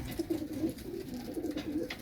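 Racing pigeons coo softly in a repeated low rhythm, fairly faint and close, with a steady background murmur.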